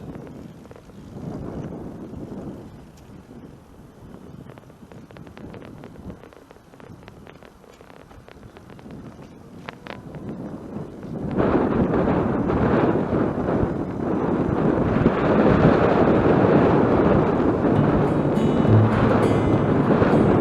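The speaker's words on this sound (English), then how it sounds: "we know what direction the wind's coming from, don't we?" Wind rushes past while people ride recumbent bikes outdoors, a low buffeting roar that starts moderate and grows steadily louder and fuller partway through.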